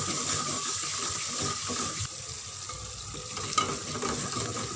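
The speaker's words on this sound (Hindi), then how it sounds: "अब हम इनको अच्छी तरह फ्राई करेंगे।" Garlic, ginger and green chili paste frying in oil for chickpea curry, a steady crackling sizzle with occasional stirring scrapes, continuous and fairly close with no talking.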